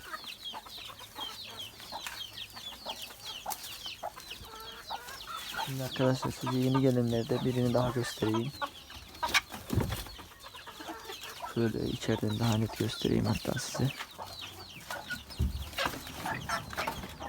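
Chickens cluck and murmur inside a coop among newly arrived birds, with a few louder calls rising mid-way, while someone talks over them throughout.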